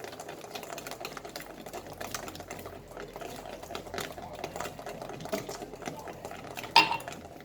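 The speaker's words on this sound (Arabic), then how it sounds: "دابا غنخوي الزيت شويه بشويه وانا كنضرب" Eggs beaten fast with a whisk in a bowl while oil is poured in slowly for lemon cake batter: steady rapid ticking rattle, close and continuous, ending with one louder clink.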